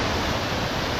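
A waterfall on the river Nent in Northumberland, a steady, loud, close rushing roar of falling water with no other sounds.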